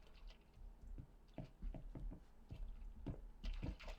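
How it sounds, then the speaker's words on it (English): In a zombie video game under development, the footsteps mistakenly trigger a water sound, producing a series of soft, quiet squishy splashes in an irregular walking rhythm with no talking. "Looks like I've got my footsteps are playing water sound right now for some reason."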